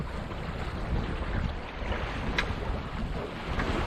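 A sailing boat moves slowly through light wind off Oronsay, with steady wind rumbling across the microphone over the wash of water against the hull, continuous and fairly loud.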